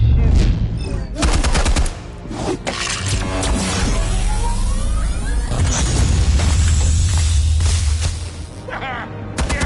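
Gunfire in Batman: The Telltale Series, rapid machine-gun bursts and loud shots rattling close, with booming impacts and a steady rumble in between while voices talk over the action.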